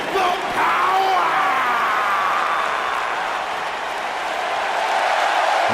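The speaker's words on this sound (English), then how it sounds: "Clap for your longest reigning tag champs and feel the power!" Crowd in the WWE 2K19 wrestling video game, a loud, sustained wash of clapping and cheering with shouts rising over it, steady from start to end.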